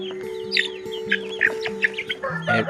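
Native country chicks chirp in high, repeated peeps close by, several calls overlapping against a steady mechanical hum in the background.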